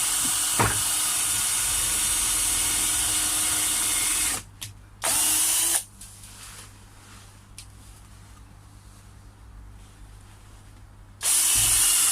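A power drill drives screws into the wall of a koi pond being strengthened, loud continuous whirring that cuts out briefly, gives way to a quieter hissing stretch, then starts again.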